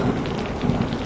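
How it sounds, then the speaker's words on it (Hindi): Heavy rain pours down steadily in a dense, continuous hiss with a low rumbling undertone, close and loud throughout the short stretch, with no voices. "इतनी तेज बारिश हो रही है, पता नहीं कहाँ गई होगी अम्मा।"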